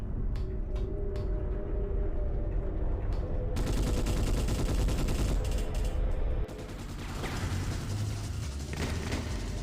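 Video-game gunfire from Ghost in the Shell on PS2, including sniper fire, crackles through a busy mix of sustained shooting and mechanical clatter that stays loud for the whole stretch, with no talk.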